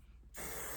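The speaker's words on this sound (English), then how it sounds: "is it okay for me to spray this shit on my bed?" A scented spray bottle fires one short, close burst of mist onto a bed, cutting in sharply after a quiet moment and hissing steadily to the end.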